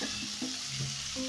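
Pork goes into a hot pan with fragrant garlic for a honey sweet pork dish, setting off a brief, continuous bright sizzle with soft stirring sounds.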